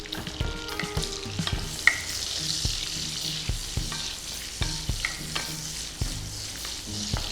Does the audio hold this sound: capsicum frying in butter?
yes